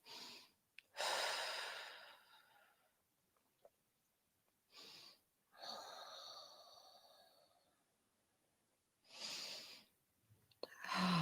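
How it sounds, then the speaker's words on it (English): Slow, deep breaths during a yoga session: three long airy inhales and exhales spaced a few seconds apart, close and soft, with quiet pauses between them. "Lovely deep breaths."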